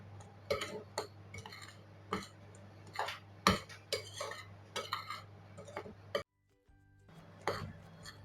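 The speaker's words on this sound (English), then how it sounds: "I give it a stir." A spoon stirs pancake batter mixed with sugar, nutmeg and baking powder in a bowl, giving repeated quiet clinks and scrapes in an irregular rhythm with a brief pause near the end.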